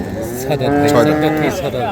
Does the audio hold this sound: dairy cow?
yes